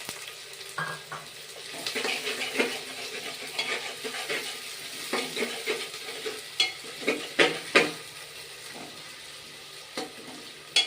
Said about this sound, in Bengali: পেঁয়াজটাও ভালো করে ভেজে নিতে হবে।